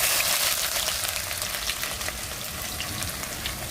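Crushed ginger and garlic frying in hot oil for a Kerala-style fish curry, a steady close-up sizzle with dense crackling that holds at an even level throughout, no talking.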